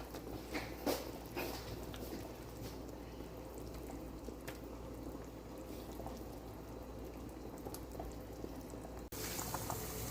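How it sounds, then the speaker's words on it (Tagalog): Pork belly boiling in a pot with salt, pepper and garlic, a steady low bubbling simmer at moderate volume with occasional clinks, continuing evenly for several seconds. "Kunting pakulo na lang."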